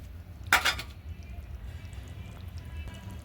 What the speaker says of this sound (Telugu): కూర ఒకసారి తిప్పుకుందాం ఫ్రెండ్స్.